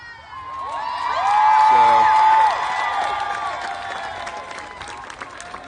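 A large protest crowd at the 2017 Women's March cheers and whoops from a distance, with a shrill whistle rising above the roar and nearby voices talking.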